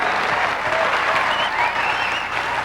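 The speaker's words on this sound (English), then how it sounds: "I'm glad to hear you cheering about that." A live audience at a free enterprise business event claps and cheers steadily, a dense, even wash of applause with scattered whistles, no speech over it.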